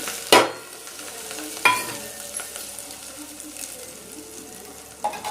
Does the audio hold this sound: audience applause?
no